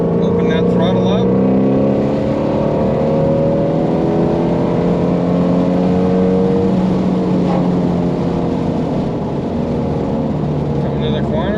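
Ford Mustang GT350R engine accelerating hard out of a corner, loud and close, its revs climbing steadily for several seconds before easing off and settling into a lower drone.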